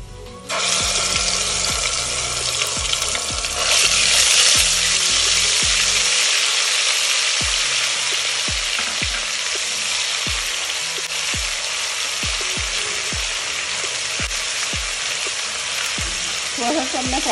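Garlic paste frying in oil in a pan for prawn biryani, a steady loud sizzle with regular scraping strokes of a stirring spoon throughout.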